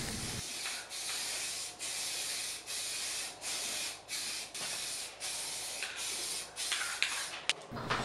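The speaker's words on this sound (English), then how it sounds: "I'm using a 220 grit sanding sponge just to give it a light sand over" Steady back-and-forth sanding of a primed dresser with a 220 grit sanding sponge, long rhythmic hissing strokes with brief pauses between them, close and alone.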